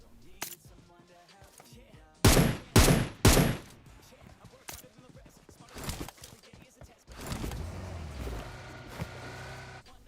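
Rapid bursts of M762 assault-rifle fire in the mobile battle-royale game PUBG Mobile: three loud, close volleys in quick succession, then scattered fainter shots and a low rumble under the in-game ambience.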